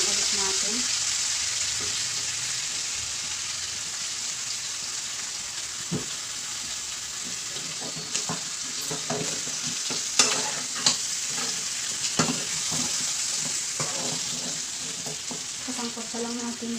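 Pork pata adobo stirred in a pan, a steady sizzle beneath intermittent scraping and clacking of the spoon against the pan, with louder knocks toward the end.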